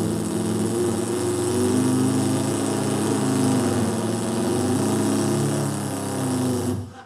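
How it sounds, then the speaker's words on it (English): An airboat's engine runs steadily at close range, a loud, continuous droning roar with a buzzing tone that holds at an even level throughout before cutting away at the end. "Here's an airboat."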